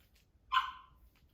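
A single short bark from a dog named Sage, fairly faint and slightly distant in a quiet indoor room, with no other sound around it.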